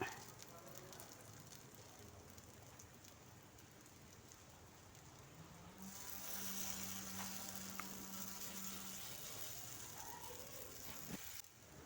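Oats, egg and vegetable cutlets sizzle steadily in a hot pan, a continuous close crackling hiss that swells louder partway through as more cutlets go in, with no voices.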